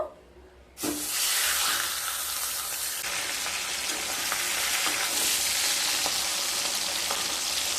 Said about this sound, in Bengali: তেলটা গরম হয়ে গেছে। মাছের মাথাটা এবার দিয়ে ভেজে নেব।